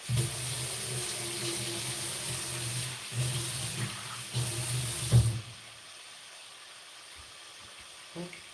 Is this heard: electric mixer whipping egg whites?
no